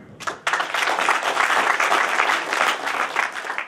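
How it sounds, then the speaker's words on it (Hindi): A crowd at a village Republic Day program in Chamba claps in honour of the national flag: applause bursts in after a brief lead-in and holds as a dense, even clatter to the end. "तो आइए जोरदार तालियां बजा दीजिए हमारे इस तिरंगे के सम्मान में"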